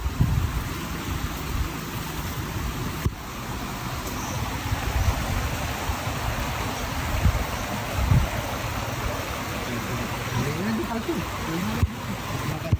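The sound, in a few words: stream flowing at a campsite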